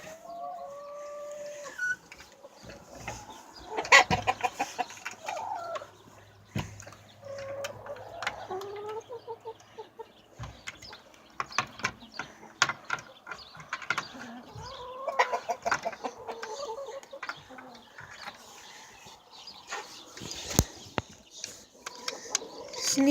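Chickens cluck and squawk throughout a chicken coop on a farm, with scattered sharp calls and rustling, some nearby and others softer, while a person talks intermittently.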